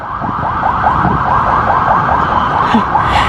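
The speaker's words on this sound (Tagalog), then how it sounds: "Maingay talaga kasi kalsada to eh. May mga wangwang." A wailing vehicle siren rises and falls rapidly in a steady repeating cycle, fairly loud over constant street traffic noise beside a parking area.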